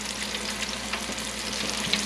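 Food crackles steadily in a restaurant deep fryer, a dense continuous sizzle of hot oil heard close and alone.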